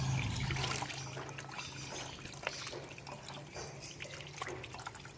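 Pork intestines being washed under a running kitchen tap, with soft continuous water flow and faint splashes and handling, quiet and close.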